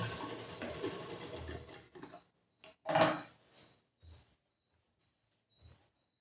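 A sewing machine stitches along the folded edge of a blouse in a dense mechanical whirr for about two seconds, then stops, followed by a few short clicks and handling knocks in near silence.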